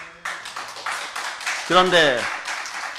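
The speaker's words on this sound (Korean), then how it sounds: "미리 하나님께 영광의 박수 돌립니다." Clapping from a Korean church congregation at an evening Holy Spirit healing service starts abruptly and keeps going as a dense patter, while a voice speaks briefly over it.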